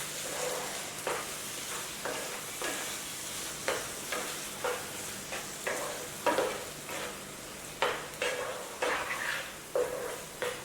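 Eggs fry in a pan with masala and chicken liver, a constant close sizzle broken by regular scraping strokes of a spatula, roughly one stir every second.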